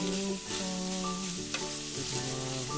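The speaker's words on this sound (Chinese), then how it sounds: "最后我们来烧烤鲤鱼、韭菜和金针菇，摆上烧烤架" Carp, chives and enoki mushrooms grilling on a toy barbecue grill, a continuous sizzling hiss under steady tonal music.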